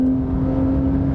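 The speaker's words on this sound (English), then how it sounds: "Listen to that engine." A 2020 Porsche 911 Carrera S (992) engine holding a steady, loud droning whir, close up and alone, a brief sustained tone with no break.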